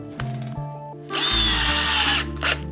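Small 12-volt DeWalt cordless drill driving grip studs into a KTM 300 XC-W motorcycle tire, a loud close whine that spins up for about a second, then stops, with a short final burst after.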